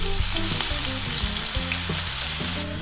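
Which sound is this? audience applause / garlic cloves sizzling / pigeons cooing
garlic cloves sizzling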